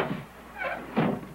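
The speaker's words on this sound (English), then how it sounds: "Close the door behind you, Paxton" A door swings shut indoors with a couple of soft, muffled thumps and a brief scrape, fairly quiet and close, with no voices.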